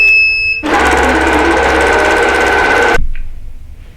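A computerized longarm quilting machine stitches a small pantograph design with Isacord thread, starting abruptly and running at a steady, loud mechanical whir with fast rhythmic needle ticking for about two and a half seconds, then stopping.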